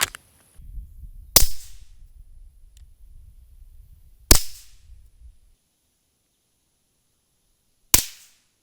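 A suppressed Smith & Wesson M&P 2.0 pistol fires Super Vel rounds: three sharp, close cracks spaced a few seconds apart, each trailing briefly, with faint handling rustle between the first two and silence otherwise.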